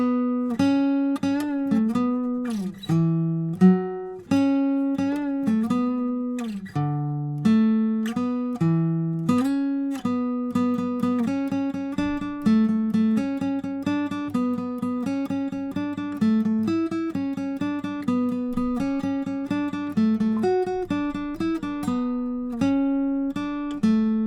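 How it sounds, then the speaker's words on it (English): Guitar solo from a song, played on a guitar detuned to drop C, with a steady run of plucked single notes and bends over about twenty-four seconds, clear and close with no talking. "So if you're playing this detuned in drop C tuning, it would sound like this."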